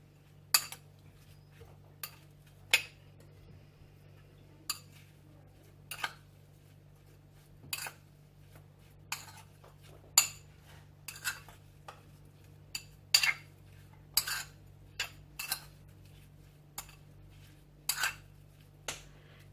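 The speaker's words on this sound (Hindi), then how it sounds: "और इसके अंदर मैं डालूंगी ये स्ट्रॉबेरीज। शुगर के साथ इसको दोनों चीजों को मिक्स कर लेंगे।" A spoon clinks against a bowl while strawberries are mixed with sugar, giving sharp, separate taps at an irregular pace over a steady low hum.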